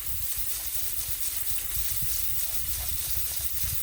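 Water sprayed under pressure to rinse an S&B air filter from a Yamaha YXZ 1000R, a steady, even hiss of running water, close and continuous.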